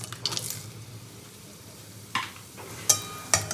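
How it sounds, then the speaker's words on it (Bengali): Whole garam masala, cumin seeds and bay leaves crackle in hot oil with a soft steady sizzle, a few sharp pops and spattering bursts near the end. "তবে এই তেলের মধ্যে আমি একটু ফোড়ন দিয়ে নেবো। দেবো গোটা গরম মশলা, জিরে আর তেজপাতা একসাথে।"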